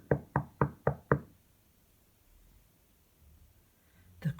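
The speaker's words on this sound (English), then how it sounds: "There was still some more tapping." A frog taps on a door in a fairy-tale scene: five quick, evenly spaced knocks close by, then a few seconds of near silence before one more knock at the end.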